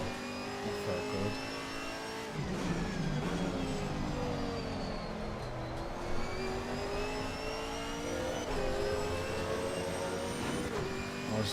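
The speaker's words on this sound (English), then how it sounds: "I was just thinking how as good as this car sounds" A race car in Assetto Corsa Competizione laps Imola, its engine screaming through rising revs, sharp upshifts and drops on braking, loud and continuous with no talk over it.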